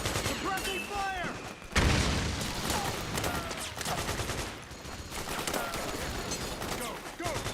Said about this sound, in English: Fire! Suppressing fire!